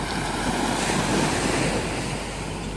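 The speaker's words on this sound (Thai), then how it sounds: "น้ำทะเลก็ เหมือนเดิมเนี่ยครับที่พัทยา" Ocean waves wash onto the beach at Pattaya, a loud continuous rush of surf mixed with wind buffeting the microphone, steady throughout with no talk.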